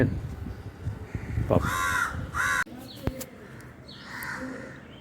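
Crows caw near a nest holding two hatched chicks, a few harsh calls rising over steady background noise, with other faint bird sounds around them.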